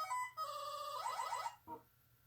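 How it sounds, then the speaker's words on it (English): An Arcade1Up Galaga/Galaxian cabinet resets, giving off bright electronic video-game tones: a sustained beep, a rising warbling sweep, then a short blip before silence, close and clear with no talking. "I'm going to go ahead and reset the machine."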